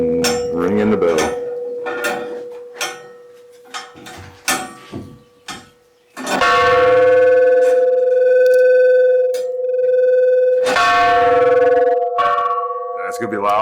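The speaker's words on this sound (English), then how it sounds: "Ringing the bell." A bell in an abandoned tower at Chernobyl struck repeatedly, loud and close, with sustained metallic ringing tones that hang and decay between strikes; people talk briefly before the ringing starts.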